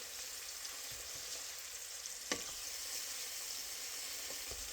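Salisbury steak patties sear in a hot pan, a soft continuous hiss and crackle of sizzling fat with a few sharper pops, faint and steady with no talking.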